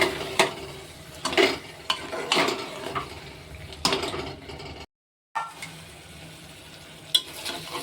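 Goat meat cooks in oil in a pressure cooker pot, with a steady low sizzle and repeated metallic scrapes and clinks from a spatula stirring against the pot, close and fairly quiet, with one brief silent gap.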